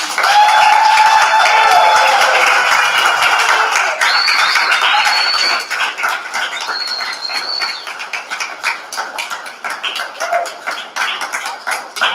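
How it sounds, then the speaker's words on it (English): A crowd applauds at a live game-show style event, a loud, dense clatter of clapping that gradually thins and softens toward the end, with a few whistles and cheers. "Can we get a round of applause for Cece?"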